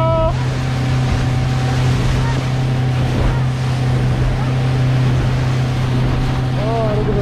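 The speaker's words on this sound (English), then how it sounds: "How good is this motor?" A 2020 Honda BF75 outboard motor runs steadily on a boat at sea, a constant close drone under wind and water noise, with a voice speaking briefly over it.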